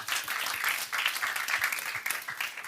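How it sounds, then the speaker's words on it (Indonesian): A worship gathering's crowd applauds in a dense, continuous patter of many hands, fairly loud and even throughout, with no talk on top. "berikan tepuk tangan buat Tuhan Yesus"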